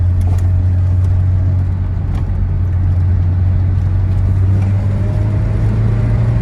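A 1987 Citroën BX GTI on the road, its steady engine drone and tyre rumble filling the cabin as it drives along and slows under braking, loud and continuous with no talk.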